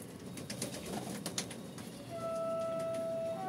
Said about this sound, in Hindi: कुछ कबूतर हमारे ये बैठे हुए हैं